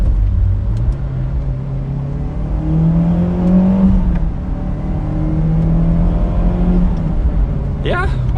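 A Mitsubishi Lancer Evo X engine climbs and falls through its revs while driving, a loud steady rising drone with a gear change dip midway, heard from inside the car with a person talking over it.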